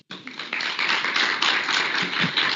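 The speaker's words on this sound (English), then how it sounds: "Please give him a round of applause." An audience at an Old Mutual Zimbabwe corporate event bursts into dense, sustained applause, many hands clapping loudly and continuously at close range for a couple of seconds.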